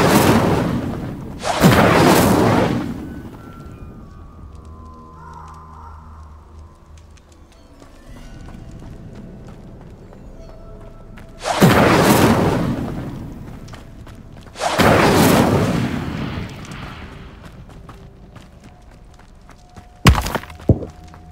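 Spell combat in Hogwarts Legacy with the Incendio fire spell, heard as a few loud whooshing blasts spread apart over a quiet game backdrop, ending with a sharp impact.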